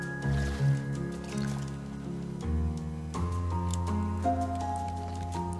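Water pours to water crops in the survival game Raft, a soft liquid splashing beneath steady game music with synth tones.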